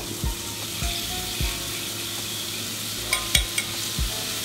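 A fish fillet fries skin-side down in a hot pan with a continuous close crackling sizzle, broken by several soft knocks and scrapes of a utensil against the pan.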